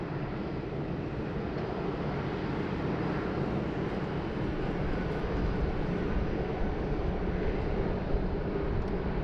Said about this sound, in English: Here she goes, the mango pancake there, just taxiing out on Alpha.